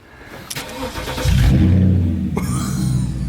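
A Porsche Cayenne S with its muffler deleted cold-starts: a brief starter crank, then the engine catches with a loud, raw roar close by and settles into a high, rumbling idle.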